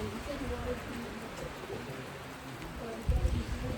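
Steady rain falls outside a trail shelter on the Appalachian Trail as a soft, even patter, with a faint low thump near the end and a murmur of voices in the background.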